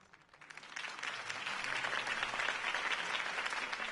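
A crowd breaks into applause that swells quickly and holds steady, a dense wash of many hands clapping at once.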